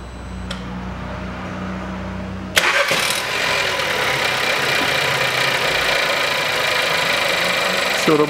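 A 2013 Skoda Octavia 1.2 turbo engine cranks briefly and catches, then settles into a steady, loud, close idle that runs to the end after a quiet stretch of faint hum.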